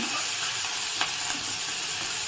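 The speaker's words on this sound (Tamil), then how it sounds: "வெங்காயம் எல்லாத்தையும் போடலாம். போட்டு நல்லா வதக்குவோம். ஃப்ளேம் மீடியம் ஃப்ளேமாக இருக்கும்." Chopped onions sauté in a pan on a medium flame for ragi aval upma, giving a steady, even hiss of frying with a soft tick or two, close and continuous.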